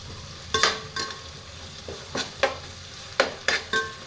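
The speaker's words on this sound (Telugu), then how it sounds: "అల్లం వెల్లిగడ్డ, పచ్చివాసన పోయే వరకు బాగా ఫ్రై చేసుకోవాలి." Ginger garlic paste frying for chicken fry biryani is stirred in a pan, with a low sizzle broken by repeated quick scraping strokes that come in short bursts, close and fairly loud.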